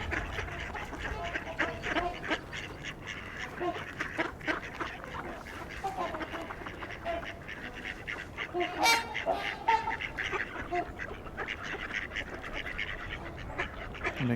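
Mallard ducks, a mix of males and females with at least one American black duck–mallard hybrid, quack steadily at moderate distance, their calls overlapping into a busy, continuous chatter from a flock of people-fed birds.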